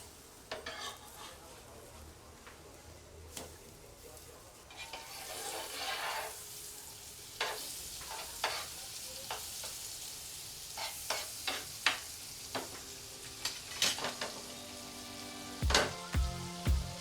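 Bread pudla cooking on a pan over medium gas just after being flipped, with a low continuous sizzle, scattered scraping and clinking of a spatula against the pan, and a sharper clatter near the end.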